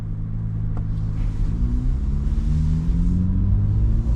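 A 2024 Chevrolet Corvette engine rumbles loudly and close, its deep drone climbing steadily in pitch as it revs.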